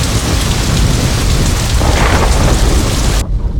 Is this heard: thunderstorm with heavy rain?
yes